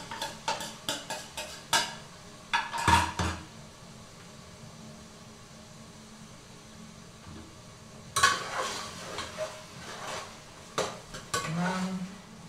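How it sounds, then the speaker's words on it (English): Onion and tomatoes frying together in a pan, with bursts of spoon scraping and pot clatter near the start and again later, over a faint background sizzle between the stirring. "Now I'm frying the onion and the tomatoes together."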